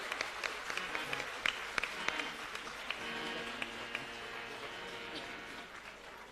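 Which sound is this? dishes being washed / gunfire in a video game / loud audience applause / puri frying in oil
loud audience applause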